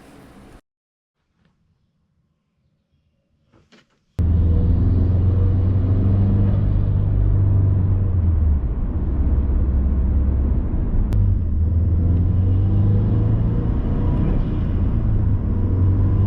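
A loud, steady rush of air venting from a dual-port 50/50 turbo blow-off valve on a Subaru STI over a deep engine rumble, continuous after a quiet start, close up with no talking.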